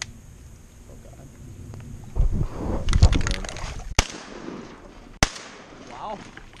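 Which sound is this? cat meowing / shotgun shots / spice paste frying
shotgun shots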